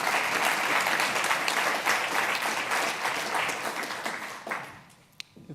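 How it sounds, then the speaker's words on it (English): An audience applauds steadily at a conference summit on electric vehicles as a panel leaves the stage, with dense sustained clapping that thins and fades out near the end. "Let's give a round of applause to the panel who will now leave the stage."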